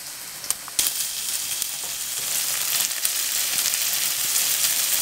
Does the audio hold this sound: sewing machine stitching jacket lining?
no